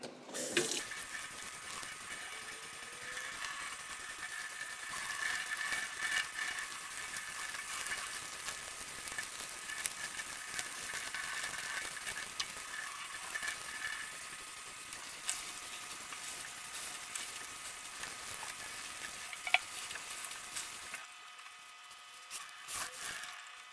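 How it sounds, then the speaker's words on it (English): Tap water runs steadily into a sink over ice-dyed tie-dye fabric being rinsed, a continuous close hiss and splash that cuts off near the end. "So let's go ahead and rinse this out."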